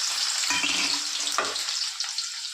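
Chopped onions dropped into hot oil with tempering spices in a kadai for a brinjal, broad bean and tomato curry, a close continuous crackling sizzle with a couple of stirring bumps, no voices.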